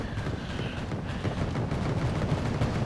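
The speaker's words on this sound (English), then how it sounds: "Bradley shooting at it from quite a long range" A Bradley vehicle in Wargame AirLand Battle fires at long range, a dense, rapid run of rattling shots and thuds rolling on without pause over a busy battle backdrop.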